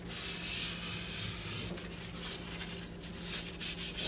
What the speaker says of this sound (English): Just keep rubbing till you get it off the wall.